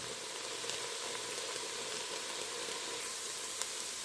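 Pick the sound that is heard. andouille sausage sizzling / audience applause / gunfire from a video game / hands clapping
andouille sausage sizzling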